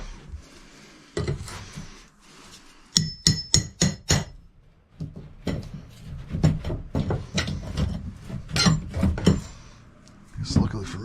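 Nailed-in trim is pried and knocked loose during a saloon demolition, with sharp wooden cracks, bangs and clatters coming in irregular bursts, close and loud, broken by short pauses.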